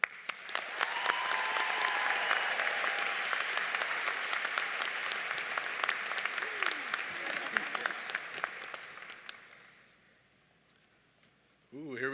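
Audience at a university graduation ceremony for agricultural biology, horticulture and soil science applauding a speaker to the podium, sustained dense clapping that fades out near the end before a voice starts.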